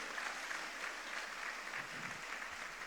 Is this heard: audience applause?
yes